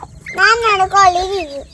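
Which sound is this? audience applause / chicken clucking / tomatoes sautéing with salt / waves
chicken clucking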